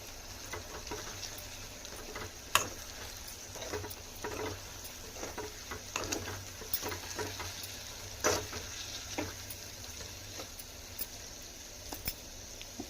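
Potato fry with chilli powder is stirred in a pan, with a low sizzle under repeated scraping and tapping strokes of a spoon, some sharper knocks, over about thirteen seconds.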